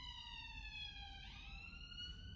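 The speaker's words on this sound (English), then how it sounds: "Ambulance." A faint ambulance siren wails in the distance, its steady tone gliding downward and then shifting pitch, heard alone with no talking.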